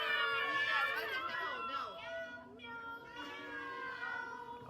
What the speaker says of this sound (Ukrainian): Оце мяу.